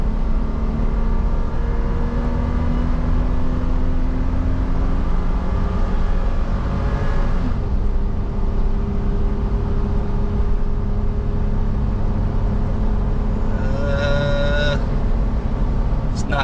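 Fifth-generation Toyota 4Runner on 35-inch tires towing a trailer up a highway grade, a loud steady engine drone with tire and road roar throughout, shifting pitch partway, with a brief tonal whine near the end.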